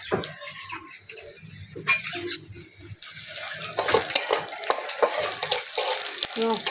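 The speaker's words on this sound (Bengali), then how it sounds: "দুটো শুকনো লঙ্কা আর পাঁচ ফোড়ন ফোড়নে দিয়ে দেবো" Dried red chillies and panch phoron spices frying in hot oil in a kadai, a steady close sizzle with stirring clatter that grows louder and busier in the second half.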